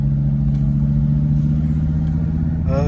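Audi TT engine idling loudly as it warms up, a steady low rumble throughout with a brief rising rev at the very end, heard close with no talk.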